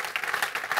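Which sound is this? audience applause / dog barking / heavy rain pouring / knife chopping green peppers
audience applause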